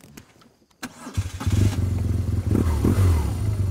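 A brand-new BMW GSA adventure motorcycle sits on a soft grass slope as its engine is started, firing after a brief quiet gap and then settling into a loud, steady rumbling idle with some clatter, close by.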